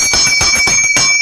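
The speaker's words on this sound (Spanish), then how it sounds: "Suena la campana." A small bell rings rapidly, about four bright metallic strikes in quick succession, loud and close.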